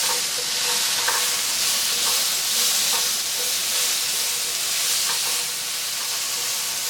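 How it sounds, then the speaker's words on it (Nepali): Bell pepper sizzles in a hot pan with a steady, loud frying hiss, while light scraping knocks from stirring come at irregular intervals, with no voices. "अब यसलाई चाहिँ हामी नछोपी 1 मिनेट फेरि यसरी नै फ्राई गरौँ"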